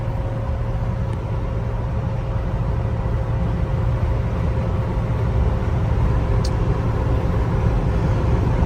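A Jeep Wrangler TJ cruises in fifth gear, its engine and road noise a steady, loud low drone with wind hiss filling the cabin, unchanging from start to finish and with no voices.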